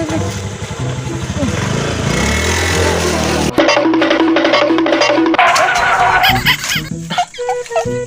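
A revving motorcycle engine close by, stalling and sputtering, roaring in uneven bursts, with a background drone and a sharp change partway through.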